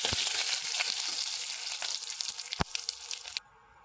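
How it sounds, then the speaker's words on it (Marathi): Ginger and green chilli sautéing in a pan, a loud, close crackling sizzle with spoon scrapes and one sharp clatter near the end, then cutting off to near quiet. "मी त्याला चांगलं परतून घ्यायचं"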